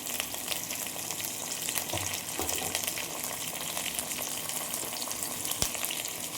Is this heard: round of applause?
no